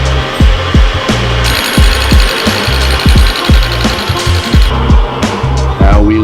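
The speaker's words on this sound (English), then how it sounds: "I'm gonna use the lathe to square this up" A metal lathe cutting down rough welds on a Porsche 911 part, with loud rhythmic chattering knocks repeating about twice a second over a steady machine whine, close and continuous.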